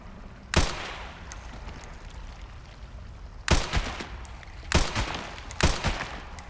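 Gunshots in the video game Resident Evil Requiem: four sharp, loud reports, a single shot followed after a pause by a quick series of three, over a low steady game ambience.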